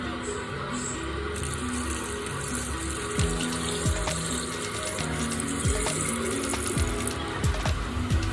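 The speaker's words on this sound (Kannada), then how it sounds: "ನಾನಿಲ್ಲಿ ಅದು ಮುಳುಗುವಷ್ಟು ನೋಡಿಕೊಂಡು ನೀರು ಹಾಕೊಳ್ತಾ ಇದ್ದೀನಿ" Water runs and splashes steadily into a container holding kasabende pickle, a continuous gurgling pour with a low background hum.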